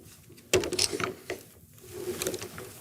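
A camera slides into its mount and a locking knob is turned: a sharp close click and clatter, then faint scraping and ratcheting mechanical sounds.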